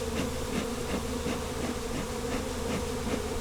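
A wild honey bee swarm moving into a barn makes a steady, dense buzz close by, thick and continuous from start to end with no voices.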